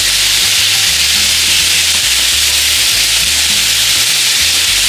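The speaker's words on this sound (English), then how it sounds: "So just start mixing it in." Beef burrito filling being stirred and mixed in a frying pan, a steady loud sizzle with soft scraping and low rhythmic stirring thumps, no talking.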